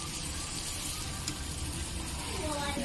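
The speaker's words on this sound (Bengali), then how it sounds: "খুব ভালো করে ভেজিটেবলসগুলো ভেজে নেব।" Vegetables frying in a pan with flattened rice pulao ingredients, giving a dense continuous sizzle that stays loud and close throughout with no pauses.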